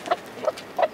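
Chickens clucking as they scratch through kitchen scraps in a large composting area, three short separate clucks spaced across a second, fairly close and clear with no talk.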